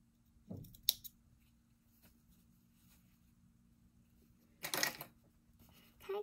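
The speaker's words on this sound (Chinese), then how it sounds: "就剪刀把它剪个开口，对折，然后剪个开口" Scissors snip an opening in folded fabric, a few short crisp cuts heard close in a quiet room, with a longer burst of cutting near the end.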